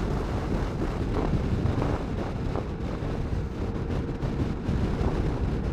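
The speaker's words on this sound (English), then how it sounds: "the wind is almost coming" Strong wind sweeps across the Great Sand Dunes in Colorado, a loud, constant roar buffeting the microphone with rough, uneven gusts.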